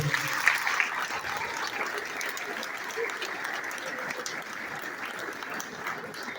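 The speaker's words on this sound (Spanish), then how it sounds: "vamos a darle un fuerte aplauso al Señor" A congregation at a church testimony service applauds, a long, steady wash of many hands clapping at moderate distance that holds evenly for several seconds.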